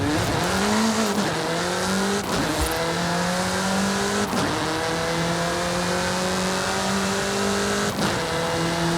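A car engine in Forza Horizon 5 rises and falls through repeated gear changes at speed, a steady loud roar broken by brief shift pops and occasional tire noise.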